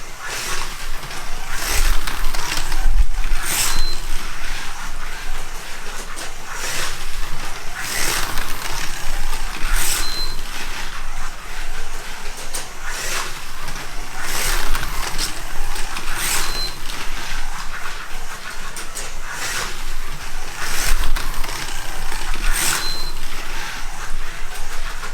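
Scalextric and Carrera slot cars race around their tracks with a loud, steady whirring buzz. Sharp clicks and surges recur every few seconds as the cars pass nearby.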